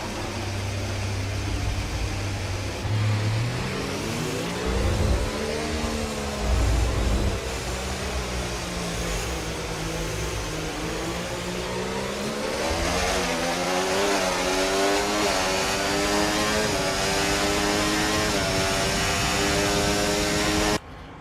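McLaren Mercedes Formula 1 car engine in a racing video game at the Mexico sprint race, a loud, continuous high-pitched whine rising and falling through gear changes and accelerations, with other car engines layered underneath and no talk.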